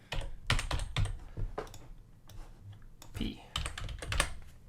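Rapid clicky keystrokes on a computer keyboard while a top-down action adventure game is being built, coming in short close bursts with brief pauses, with a voice speaking now and then.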